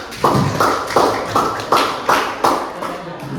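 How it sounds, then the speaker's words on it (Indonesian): A school class claps in unison in a rhythmic pattern, about seven sharp, evenly spaced bursts of clapping, fairly close and loud, with no talking over it. "Tepuk tangan dong"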